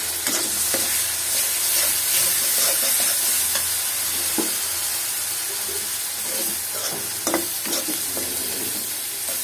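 Shrimp frying in a pan of oil spiced with chili and garlic paste, a steady close sizzle with scraping stir strokes throughout and no talking.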